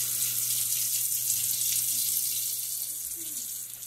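Cold water runs steadily from a kitchen tap while sweet potatoes are being washed, a close, even hiss with no voices.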